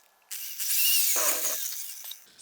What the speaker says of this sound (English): So the first thing I'm going to do is drill my hole here so I can blow through